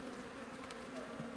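Honey bees from a package colony fill an opened hive with a dense, continuous buzz, steady and close with no voices over it.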